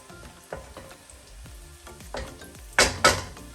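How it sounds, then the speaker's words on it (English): Two garlic cloves dropped into a hot pan with curry leaves, sizzling softly under scattered utensil clinks, then two sharper, louder scrapes or clanks near the end. "Then I'm going to add in 2 garlic cloves."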